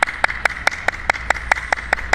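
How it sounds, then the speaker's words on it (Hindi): Steady hand clapping from a group during an outdoor laughter yoga session, about ten sharp claps in an even rhythm, close and fairly loud, with a faint background hum. "जोर जोर से तालियां बजाते हुए खिलखिला के हंसे।"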